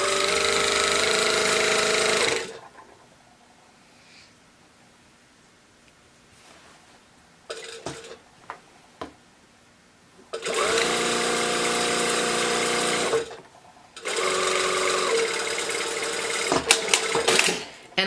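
A domestic sewing machine runs in long steady bursts as it stitches a skirt seam down to the hem, loud and close, with a pause between runs filled by brief clicks and handling noises.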